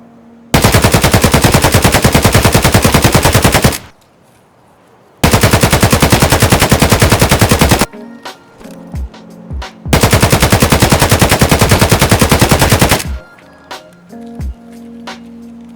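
Full-auto AKM rifle fire in Escape From Tarkov, three sustained loud bursts of rapid shots, each lasting about two to three seconds with short pauses between, followed by faint clinks and footstep-like shuffles after the final burst.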